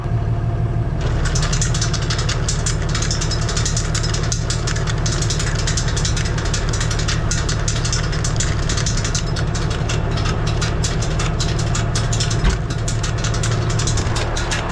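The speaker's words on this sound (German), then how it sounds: "Ich werde jetzt einmal den laufen lassen, gucken, ob der Propeller so dreht." A tractor PTO-driven slurry mixer propeller runs at idle, a loud, constant mechanical drone with a rapid rattling chatter throughout, close and steady with no talk.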